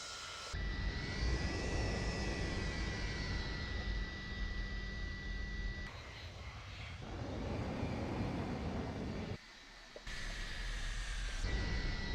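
Steady, loud jet engine roar of an Avro Vulcan in a flight simulator, with a high whine on top, continuous throughout, briefly dipping near the end before resuming.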